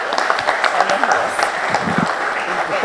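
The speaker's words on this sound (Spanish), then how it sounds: "les pido que por favor les demos un fuerte aplauso" Audience applause at a solemn school anniversary session in El Guabo, Ecuador, honoring a team; steady, dense clapping fills the room with voices chattering over it.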